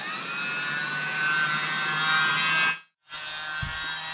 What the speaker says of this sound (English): now I'm going to be using my world's smallest blower